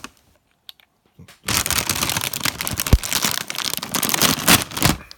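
A packet of Miel Pops cereal is torn and opened, starting after a quiet pause with loud, close, continuous crinkling and rustling of the plastic bag that fills the rest of the clip, with no talk.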